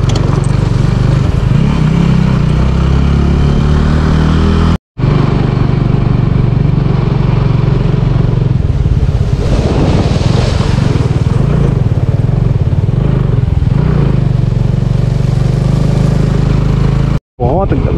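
A motorcycle engine drones steadily while ridden along the rough Kailash Mansarovar road, loud and continuous with two brief cutouts, someone talking over it for much of the time.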